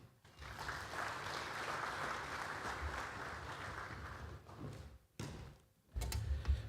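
Conference audience at an aviation week event applauding after a speech, sustained crowd clapping that fades and breaks off near the end, followed by a short renewed burst with some handling knocks.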